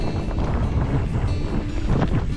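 Steady, loud wind buffeting the microphone outdoors on a bikepacking trail in Cebu, a continuous rushing roar with no talk.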